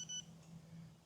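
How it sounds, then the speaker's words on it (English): A dog training collar gives a single short, faint electronic beep with a pure high tone, heard once at the start over a low background hum. "I'm not sure if you heard that beep, but that's it"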